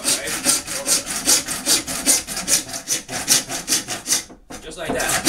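A PVC saw cuts through Schedule 40 PVC plumbing pipe with a fast, steady rasping rhythm of loud, close push-pull strokes, ending in a brief pause before the blade bites again.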